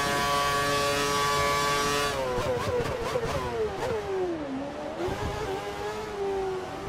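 Formula One race car engine in the F1 2013 video game, a steady high whine that shifts into revving with pitch dips and rises as the car accelerates and brakes, loud and continuous with no talking.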